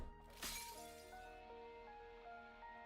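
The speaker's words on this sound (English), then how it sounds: "The sound of glass shattering rings through the air." A glass cup shatters once in the Nikke video game story, a sharp crash followed by ringing tinkling shards that fade over a low musical backdrop.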